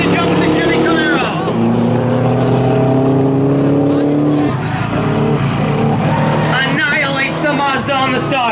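A Chevy Camaro launches against a Mazda in a street legal drag race, engines roaring loudly and climbing through the gears as the cars pull away, with an announcer talking throughout.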